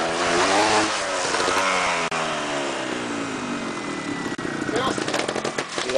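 A motorcycle labouring up a flight of stairs, its engine revving hard with rising and falling pitch and sharp popping bursts, loud and close, with a few voices faintly in the background.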